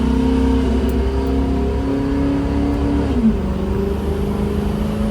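A car engine revving and accelerating on a freeway, loud and close, its droning tones climbing and dropping as it runs through the RPMs and shifts gears over constant road roar.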